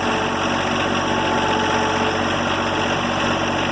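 A John Deere 1025R compact tractor runs in gear, its engine a loud, steady, close drone with a constant vibrating hum throughout.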